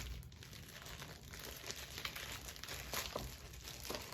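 A plastic Ziploc bag holding a gun safe's instruction manual crinkles under handling, with close, soft rustles and a few sharper crackles spread across the moment.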